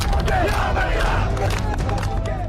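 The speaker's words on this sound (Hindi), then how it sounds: "इमरान खान के हजारों सपोर्टरों की भीड़ इकट्ठा हुई जिसने जनरल के खिलाफ शेम शेम के नारे लगाए।" A dense crowd of thousands of Imran Khan supporters chants shame slogans against the army general on a street in Pakistan, a loud continuous roar of massed voices with rhythmic shouted bursts filling the whole clip.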